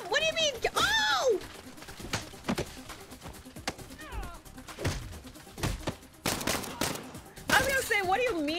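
Gunfire in Saints Row comes as scattered sharp shots and short bursts, some near and some distant, spread between excited talk and shouting from several players.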